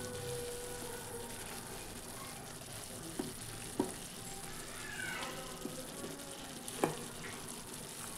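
Fried pumpkin pieces added to a pan of chicken curry, sizzling steadily with occasional scrapes and knocks from stirring, close and moderately loud, with no one speaking.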